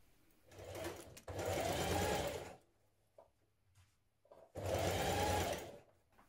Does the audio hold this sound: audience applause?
no